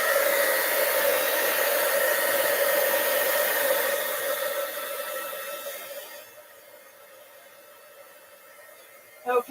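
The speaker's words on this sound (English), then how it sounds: "I am going to take my heat gun and dry that because I want to do the blue next" A heat gun drying watercolor paint on a fall card gives a loud, steady, close blowing roar for most of the clip, then fades to a lower hiss before a couple of brief knocks at the end.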